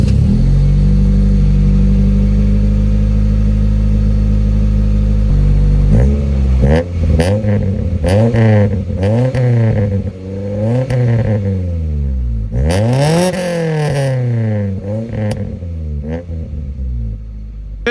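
A Honda Civic EK hatchback with a newly swapped Y8 exhaust manifold idles with a low, steady drone, then is revved repeatedly in sharp, raspy bursts that rise and fall, the loudest rev coming near the end.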